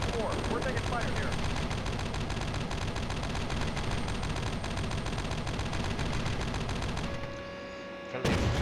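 Dense, continuous video game gunfire during a military operation, with rapid machine-gun bursts and volleys filling the scene, loud and unbroken before briefly thinning near the end and then resuming.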